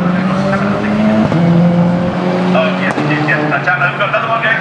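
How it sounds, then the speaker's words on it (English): Renault Clio Cup race car in a 2014 UK race sliding sideways, steady loud engine roar with tires squealing and skidding across the whole stretch, under a commentator's talk. "And the car just went sideways."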